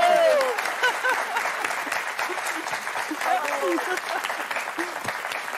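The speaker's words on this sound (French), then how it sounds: "Applaudissements pour Cécile et Laurent." Studio audience of a French TV game show clapping loudly and continuously, a dense crowd of hands with a host's voice calling out over it.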